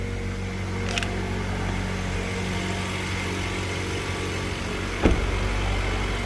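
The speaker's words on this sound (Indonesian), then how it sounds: "Ini indikatornya masih dingin ya mesinnya. Jadi dia ada auto choke-nya juga." A 2021 Mazda CX-3 Pro facelift engine idling cold on auto choke, a steady close low hum with a constant drone, a brief click early on and a short knock near the end.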